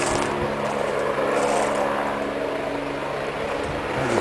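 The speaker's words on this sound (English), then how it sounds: "I'll resume this video as soon as this helicopter leaves. It's just too loud when it gets over me." A helicopter passes overhead, its loud, steady engine and rotor roar with no letup, droning continuously from start to end.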